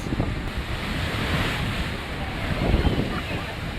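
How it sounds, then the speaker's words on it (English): Big waves crash and surge into Ilfracombe Harbour in North Devon with a loud, rushing roar, mixed with gusty wind buffeting the microphone. "So you get one of these big waves coming across."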